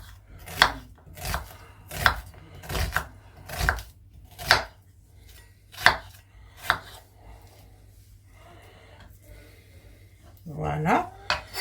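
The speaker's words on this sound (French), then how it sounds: "nous allons couper nos oignons" A knife chops onions on a board in about a dozen firm, evenly spaced thuds, close and loud, slowing toward the end, followed by a short voice.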